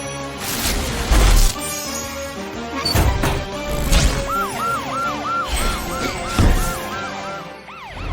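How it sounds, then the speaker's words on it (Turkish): A warbling siren wails repeatedly in rising and falling sweeps, mixed with loud crashes and thumps near the start. "Siren hayaleti korkutacak."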